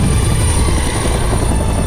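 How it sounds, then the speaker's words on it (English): Steady, loud whir of a helicopter's rotors and engine flying in the video game Minecraft, a continuous close drone with no voices. "I didn't know you could fly a helicopter."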